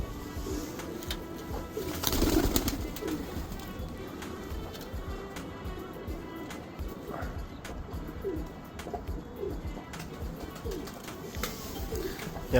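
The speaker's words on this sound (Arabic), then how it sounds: "طيور كلهن زلفينات." A flock of red zulfinat pigeon chicks coos in low, repeated rolling calls, fairly faint over a constant background hum, with a brief flurry of movement early on.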